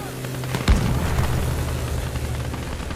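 In a WWII video game, a German 88 mm gun shell explodes with a sudden deep boom, and a rumbling roar and scattered crackle follow over continuous battle noise.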